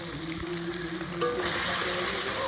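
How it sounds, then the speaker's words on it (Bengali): Fish oil and fish head chorchori cooking in a pan, a steady close sizzle and crackle with faint stirring, growing slightly louder midway. "মাছের তেল দিয়ে চচ্চড়ি হচ্ছে, মাছের তেল আর মাথা দিয়ে তাড়াতাড়ি দিয়ে দিয়েছে"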